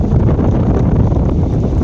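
A strong, cold, dusty wind roars steadily and loudly, buffeting the microphone without a break.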